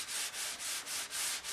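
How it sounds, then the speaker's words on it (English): Wood is hand-sanded with the grain during pore filling for a French polish finish, giving six even, raspy back-and-forth strokes in a quick steady rhythm, close and clear with no voices. "so you know you're sanding."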